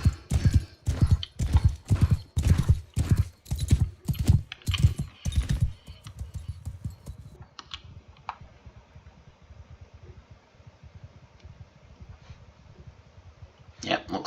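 Horse hooves in the Mount and Blade II: Bannerlord video game, a loud, rapid rhythmic galloping thud up close that fades after several seconds into softer, distant hoofbeats and faint background clatter.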